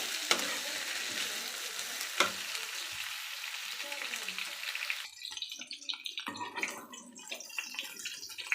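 Bitter gourd frying in oil in a pan sizzles steadily up close, with stirring scrapes and a few sharp clicks, the hiss turning patchier and crackling toward the end.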